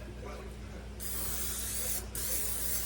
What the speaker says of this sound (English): I am going to spray it with my spray